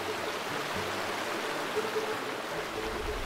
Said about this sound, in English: Okay, I can hear water.